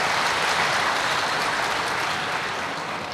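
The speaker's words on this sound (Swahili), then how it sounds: "Ningeliomba wajumbe pia tumpigie makofi mengi Mheshimiwa Mavunde" An audience at a meeting claps heavily and continuously, a dense wash of applause that holds steady and eases slightly toward the end, with no voices.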